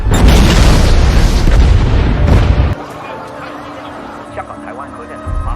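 A huge, booming explosion at a nuclear power plant in Chaiwan, Hong Kong, in a film scene, with a roaring blast that rumbles for about two and a half seconds before cutting to a quieter scene with faint sounds.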